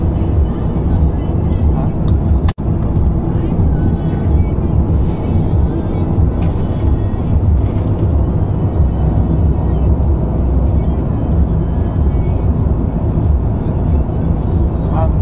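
A car driving along with a loud, steady road and engine rumble inside the cabin, while people talk over it throughout.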